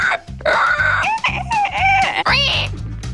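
A person mimics pig squeals at a modelling shoot with live pigs, giving loud, rapid, rising and falling squeals in short bursts. Low rhythmic grunts repeat steadily underneath, and the sound stays close and continuous for about three seconds.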